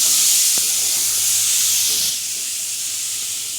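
Boiled eggs coated in salt and turmeric are dropped into hot oil, giving a loud steady sizzling hiss that eases slightly partway through.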